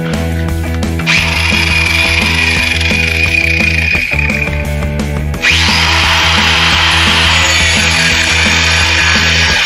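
An angle grinder cuts through a heavy-duty steel bracket clamped in a vise, its loud, steady whine running almost unbroken, with a brief dip and change in pitch partway through the cut.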